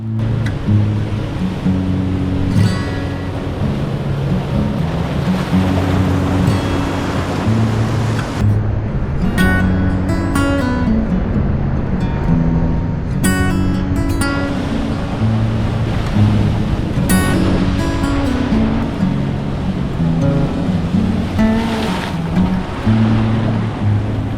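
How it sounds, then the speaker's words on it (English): Huge ocean swells roll in at an all-day high tide in March, a loud, continuous surf roar with crashing surges and heavy wind buffeting the microphone, and no voices. "March greeted me with huge swells and an all-day high tide"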